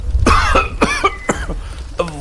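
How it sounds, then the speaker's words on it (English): A man coughs badly, a run of about five harsh, hacking coughs close by, each a sharp burst separated by short gasps. "Suddenly, one of the men started coughing badly."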